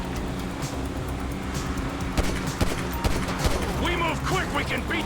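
Gunfire during a bank robbery in GTA 5, heard as scattered sharp shots over a constant engine and traffic drone, with a voice talking over the later part.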